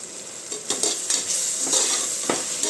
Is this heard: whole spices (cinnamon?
yes